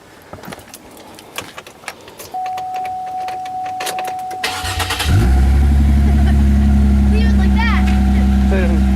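A stock car engine turns over and catches, settling into a loud, rumbling idle that stays steady and close after a few seconds of quieter background noise.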